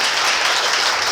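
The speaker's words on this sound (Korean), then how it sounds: "박수 한번 부탁드리겠습니다" An audience claps at a football awards ceremony in a dense, even burst of applause that fills the hall for about a second and then cuts off abruptly.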